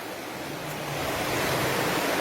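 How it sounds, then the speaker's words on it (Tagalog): A river in Hinaguan Nature Park rushes steadily, a dense, even wash of flowing water heard up close with no voices. "Dito kami sa ilog."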